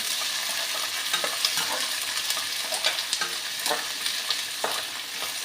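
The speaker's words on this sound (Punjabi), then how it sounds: "ਆਪਾਂ ਲਗਾਤਾਰ ਹਲਾਉਂਦੇ ਹੋਏ ਜੀ ਪਿਆਜ਼ਾਂ ਨੂੰ ਪਕਾਵਾਂਗੇ" Long-sliced onions for a pumpkin curry fry in a pan with a steady broadband sizzle, while a spoon stirs them continuously and makes frequent light scraping clicks. No voices are heard.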